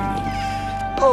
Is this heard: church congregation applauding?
no